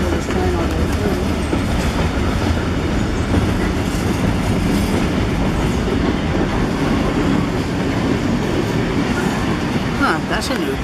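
A train passes close by with a steady, loud rumble and rhythmic clatter of wheels on rails, continuous for about ten seconds, with faint squeals near the end.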